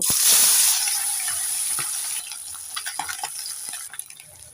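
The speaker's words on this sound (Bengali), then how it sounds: "প্রথমে আমি মাছগুলোকে ভেজে নেব" Loud, steady sizzling of small freshwater fish frying in hot oil, a bright hiss that gradually settles, with a few scraping stir sounds toward the end.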